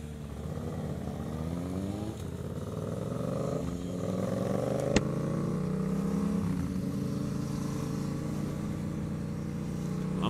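Orange pearl Suzuki GSX650F motorcycle engine revving with a sporty exhaust, a steady rumbling drone that rises and swells in pitch, close and continuous, with one sharp click midway.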